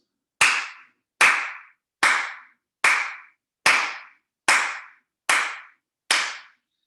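Eight single hand claps ring out loud and close at an even, unhurried pace, about one every ring-out, each sharp slap decaying before the next, during an online adaptive yoga session.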